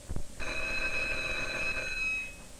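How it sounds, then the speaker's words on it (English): A household telephone bell rings in one long, steady, bright burst lasting about two seconds, loud and close, with no voices over it. "Tessie, the phone's ringing"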